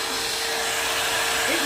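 A hair dryer blows steadily at close range during a natural hair blowout, a continuous broadband whoosh with a constant motor hum.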